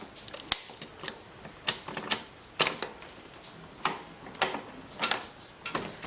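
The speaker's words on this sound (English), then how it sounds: "The ignition switch comes right out. Back in, same way." A motorcycle ignition switch is pushed back into place with its key, giving sharp metallic clicks and light rattles. The clicks are close and irregularly spaced over several seconds, in a quiet room.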